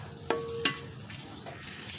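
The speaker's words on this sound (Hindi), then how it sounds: "सब्ज़ मिर्च का तड़का अब डाल दिए मैंने।" Green chilli tempering sizzles in a pan of cumin rice, a steady frying hiss broken by a few sharp stirring clinks, close and with no talking.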